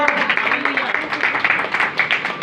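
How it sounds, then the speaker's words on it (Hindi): Audience clapping for a brother at a church gathering, a steady dense patter of many hands that runs for the whole stretch at moderate loudness. "प्यारे भाई के लिए जोरदार तालियां बजाएं।"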